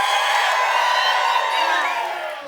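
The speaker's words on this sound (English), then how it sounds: "I can't wait to see all of the audiences cheering for me once again" Imagined audience cheering in a tabletop show, a loud burst of crowd whooping and shouting that holds briefly and then fades slightly.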